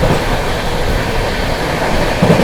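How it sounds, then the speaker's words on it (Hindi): Patna Amrit Bharat Express running through Somnath station without stopping, in heavy rain: a loud, dense, continuous rolling roar of the train at speed, with no talk. "और यहाँ सोमनाथ स्किप कर रहे हैं"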